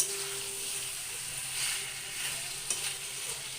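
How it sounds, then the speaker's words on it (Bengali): Chicken and potatoes with green chillies sizzle and fry in a pan, a steady close hiss with faint stirring scrapes and no talk. "দেখুন অনেকটা কিন্তু ভাজা ভাজা হয়ে গেছে"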